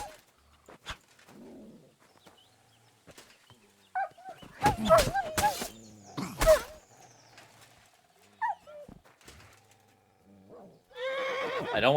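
A horse in Kingdom Come Deliverance II gives a loud, quavering whinny in the middle of otherwise sparse game sounds, with a few short thuds around it and a voice talking near the end.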